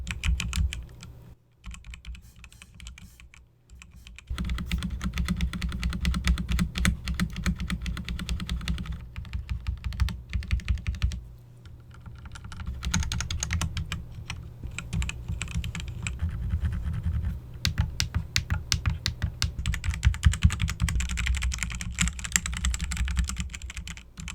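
Steady, fast typing on a GamePro MK180W wireless mechanical keyboard with crisp clicky keystrokes, close and continuous, pausing briefly a couple of times.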